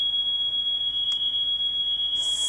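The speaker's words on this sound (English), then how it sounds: "So either it's a test, one of the kids pulled the fire alarms," A school fire alarm sounds as a steady, piercing high electronic tone held continuously, moderately loud, with a faint hiss rising near the end and no talking.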